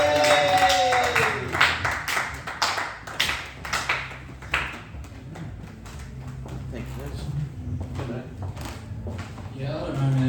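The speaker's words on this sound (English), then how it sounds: "give it a round of applause" Sparse, scattered clapping from a small comedy show audience, a few quick claps near the start that thin out and fade, heard alongside voices talking in the room.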